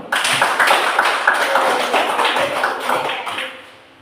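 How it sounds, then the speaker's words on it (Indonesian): A room of participants gives a group a round of applause before its presentation, steady clapping from many hands that carries on, then thins and fades out near the end. "Sebelum kita dengar presentasi dari kelompok 1, kita berikan tepuk tangan."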